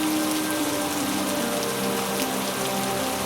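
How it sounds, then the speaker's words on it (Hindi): Heavy, steady downpour of rain in a village, a dense unbroken hiss of drops pattering on surfaces, loud and constant throughout with no voices. "मूसलाधार बारिश होने लगता है"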